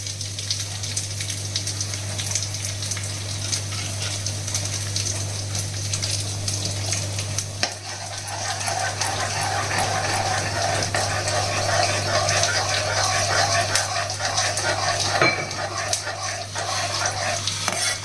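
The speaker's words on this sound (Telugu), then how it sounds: "ఇలా కలుపుతూ వేయాలన్నమాట, లేకపోతే గట్టిపడిపోతుంది" Semolina stirred into boiling water for tomato upma, with a steady bubbling, scraping and stirring sound close up and continuous throughout, over a low hum.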